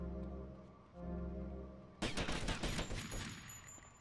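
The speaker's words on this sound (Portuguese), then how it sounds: "O problema é essa galera aí atirando na gente, cara." Gunfire crackles in GTA Vice City as a low engine-like drone gives way to a dense burst of rapid shots after the first two seconds, loud and continuous with no talking.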